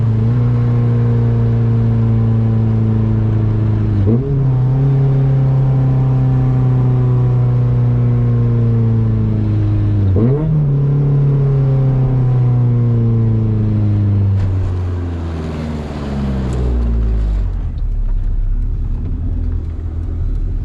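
Honda CRX with a B17 engine pulling hard on a street, loud rising engine note climbing through first, second and third with two sharp shift dips, then easing off to a lower idle-like rumble near the end.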